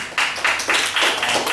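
Workshop audience applause, heard as a short run of a few distinct claps in uneven rhythm, fairly close and sparse rather than a full ovation.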